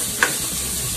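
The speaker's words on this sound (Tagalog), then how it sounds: "Next sauté natin ang chicken." Chicken sautéing with garlic in a pan gives a steady, close frying sizzle, with one brief clink of a utensil early on and no voices.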